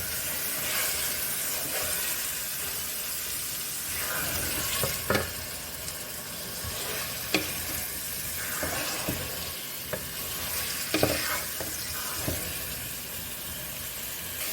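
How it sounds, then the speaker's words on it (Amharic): Close, steady sizzle of chicken browning in a pan, with intermittent scraping and clinks from stirring breaking through the hiss, no voices. "እንደዚህ ትንሽ ጠበስ እናደርጋታለን።"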